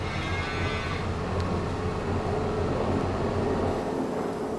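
Cattle in the farming game Farming Simulator 22 give low, sustained moos over a constant droning ambience, heard clearly with no talking.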